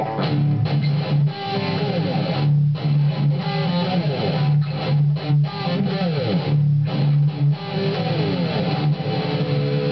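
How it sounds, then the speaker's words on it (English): Heavy distorted metal guitar chugs through a dense, loud breakdown, with a gliding slide effect smearing the notes into one continuous wall of sound. "You need to add the slide to get a nice,"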